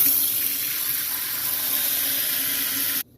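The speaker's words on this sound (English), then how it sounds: "Now we're going to fill up our sink with water." A kitchen faucet runs steadily into a sink basin, a continuous broadband rush of water filling the sink at close range, cutting off abruptly near the end.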